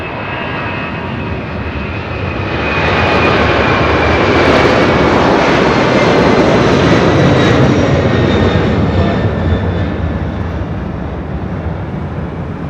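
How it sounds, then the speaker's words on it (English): A United Airlines jet airliner at LAX roars past in a loud, broad engine rumble that swells in the middle and slowly fades, with no voices. "That is United Airlines Flight 284 coming from Brisbane"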